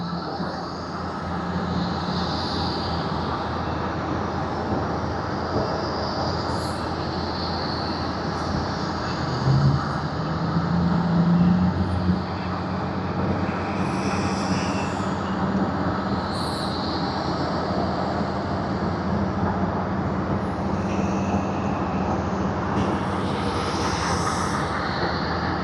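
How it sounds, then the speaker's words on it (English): An ANA Boeing 737 airliner at Tokyo Haneda Airport gives off a steady, distant engine roar and broadband rumble that holds evenly throughout with no talk. "ANA Boeing 737."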